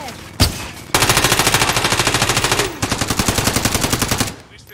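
A turret machine gun in Call of Duty: Warzone fires long rapid bursts, loud and close, with a sharp shot first, a brief pause, then sustained rattling fire that breaks once and resumes.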